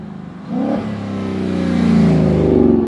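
A Ford Mustang Shelby GT V8 rated at 450 horsepower revs and accelerates hard, its deep engine note rising steadily in pitch and loudness over a few seconds before cutting off abruptly, loud and close.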